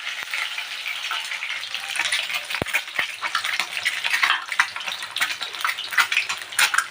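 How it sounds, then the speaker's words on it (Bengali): Eggs fry in a pan with turmeric and salt, giving a close, steady sizzle with scattered crackles and a couple of sharp utensil clicks as they are turned. "ডিমটাকে ভেজে নেব, একটু হলুদ নুন দিয়ে ডিমটাকে ভালো করে লাল লাল করে ভেজে নেব"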